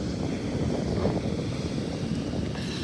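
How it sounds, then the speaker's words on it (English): Ocean surf on the southern Oregon coast at Gold Beach makes a continuous low roar mixed with heavy wind buffeting, steady throughout and without speech. "Those are some big waves coming behind you."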